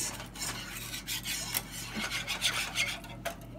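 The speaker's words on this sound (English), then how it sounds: "we're going to whisk this around" A whisk scrapes and swirls steadily through a Worcestershire sauce mixture in a pot for shepherd's pie, with continuous rasping strokes close up and a low steady hum underneath.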